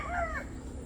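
An eight-month-old Perfection roundhead x Gilmore gamecock crows once, a short, near, rising-and-falling call lasting under half a second before fading into quiet.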